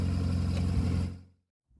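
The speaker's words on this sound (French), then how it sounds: "vous allez entendre un petit claquement, ça c'est l'embrayage qui est HS" Petrol 2-litre 106 hp Citroën CX engine running steadily with a faulty clutch, a constant mid-low drone close by that cuts off abruptly partway through, followed by near silence.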